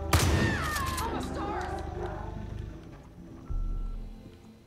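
Gunfire in the video game Far Cry 5: a burst of sharp shots up front, then game music and ambient noise carry on with a heavy thump near the end.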